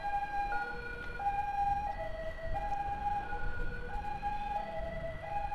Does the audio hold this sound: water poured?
no